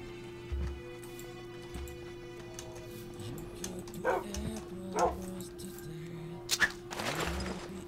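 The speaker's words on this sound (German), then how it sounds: "Noch ein Hund." Dogs in the video game Minecraft yip and bark in short scattered bursts over steady game background sounds, fairly close and clear.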